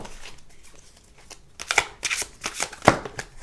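Oracle cards being shuffled by hand before a draw, with soft riffling at first building to louder, close flicking and slapping bursts, with no voice.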